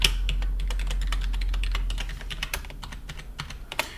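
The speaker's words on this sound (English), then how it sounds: "we're going to go ahead and type those credentials in" Administrator credentials typed on a computer keyboard while joining a Windows 10 device to a domain: a close, steady run of quick, uneven key clicks with no voices.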